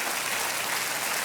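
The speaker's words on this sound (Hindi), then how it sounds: "आप तालियों के साथ इनका अभिनंदन।" A studio audience on a televised quiz show breaks into dense, continuous clapping, loud and even across the brief stretch with no voices on top.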